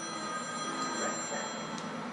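A phone ringing indoors at home, a steady electronic ring tone with faint repeating chimes, moderately quiet, continuing for a couple of seconds with no talking.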